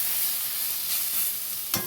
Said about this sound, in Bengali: সমস্ত ভাজা হয়ে গেছে